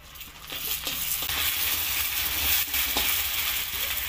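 Ginger garlic paste hits hot frying oil for an egg curry, giving a loud, steady sizzle with brief stirring scrapes, heard up close with no talking.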